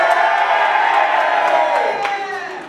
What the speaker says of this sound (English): I don't know why there's allowed a cheer there.